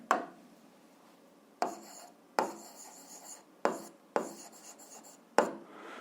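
A pen scratches across paper in short, close strokes while a math solution is written out, with soft taps marking the start of each stroke and quiet pauses in between.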